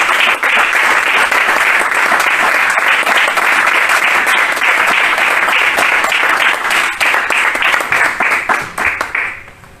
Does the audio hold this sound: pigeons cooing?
no